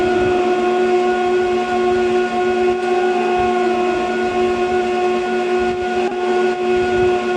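A single sustained synth note processed with reverb and an RC20 tape-degradation effect, made wider, sounding like worn old tape or cheap vinyl: a steady harmonic tone with hiss and grit throughout, loud and alone.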